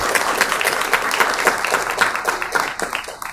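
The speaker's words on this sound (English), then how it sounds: "let's give him a round of applause" A round of applause from an audience at a city government meeting, dense steady clapping from a crowd that stays fairly loud and even before easing slightly at the end.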